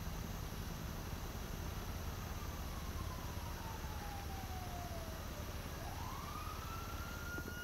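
Fire truck siren in GTA V, faint and distant, a single wailing tone that slides down slowly and then sweeps back up over a steady background hiss, with no talking.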